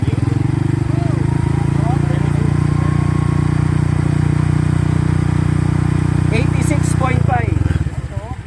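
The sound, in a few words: motorcycle engine revving with aftermarket muffler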